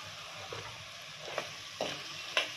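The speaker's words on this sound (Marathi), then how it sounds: "आता घालते वांगे" Eggplant stirred into a frying onion and tomato mixture in a home kitchen, a quiet sizzle with three or four distinct spoon scrapes against the pan, no speech.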